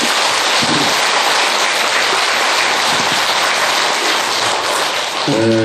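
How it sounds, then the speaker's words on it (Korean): An audience at a Bongeunsa temple dharma talk applauds the head monk in a dense, loud and continuous roar that lasts over five seconds, with a voice starting at the very end. "오늘 안 계시지만 우리 주지 스님을 위해서 박수 한번 해주세요"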